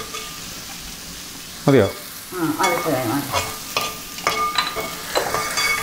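Onions and a little salt sauté in a pan for a country-style mutton curry, with a sudden loud sizzle as they go in, then scraping stirs and steady frying hiss, close by; a voice briefly speaks.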